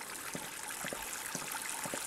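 A water fountain in Aridan's Halloween Escapades gives off a steady, soft trickling and splashing, with faint droplets plinking at an uneven pace on top.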